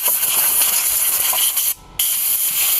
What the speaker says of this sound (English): This is where it pays to have the compressor